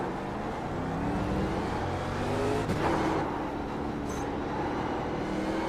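NASCAR race car in iRacing at Rockingham, engine droning steadily with rising harmonic sweeps as it accelerates, loud and continuous throughout.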